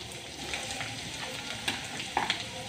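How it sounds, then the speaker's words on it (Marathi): Spice masala fries in a pan with cumin seeds, giving a close, steady sizzle and crackle with a few sharper pops and stirring scrapes. "हा मसाला फ्राय करू थोडंसं"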